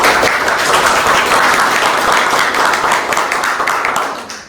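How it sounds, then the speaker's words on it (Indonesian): A lecture audience applauding steadily, dense clapping that holds strong for about four seconds before starting to fade. "boleh beri tepuk tangan"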